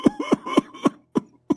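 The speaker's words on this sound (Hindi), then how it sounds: "आपकी तो खांसी रुकने का नाम ही नहीं ले रही है।" A person coughs repeatedly in a tight series of six harsh, close bursts, the last two spaced slightly apart, with no other voices.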